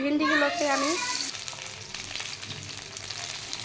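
Okra frying in hot oil in a wok, a continuous sizzle and crackle that follows a brief stretch of talk at the start and then carries on alone at moderate loudness.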